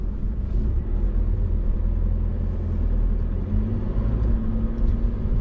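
A 2020 Mitsubishi Pajero Sport Exceed driving along, its engine a steady low hum under constant road and tyre rumble from inside the cabin, with no talk.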